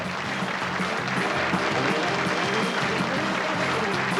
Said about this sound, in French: Que vous applaudissez, c'est un très beau cadeau